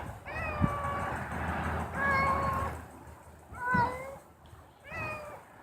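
A cat meows four times in drawn-out, rising and falling cries spaced a second or so apart, fairly close and clear against a quiet indoor background.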